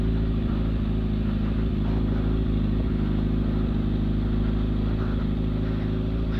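A Red 750 sport motorcycle climbing the steep mountain road of Serra do Corvo Branco, its engine droning loud and close with a steady, continuous mid-pitched hum and no talking.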